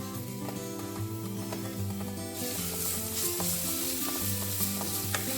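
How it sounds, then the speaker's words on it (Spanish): Garlic sautéing in three spoonfuls of olive oil in a frying pan, a steady close sizzle with occasional stirring scrapes, growing broader and brighter partway through, over faint background music. "Salteamos hasta que esté doradito y después apartamos"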